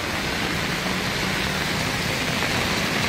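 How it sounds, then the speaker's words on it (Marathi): Heavy monsoon rain pouring down in Mumbai, a loud, dense and continuous wash of noise with no gaps or voices. "आजही मुसळधार पाऊस आहे"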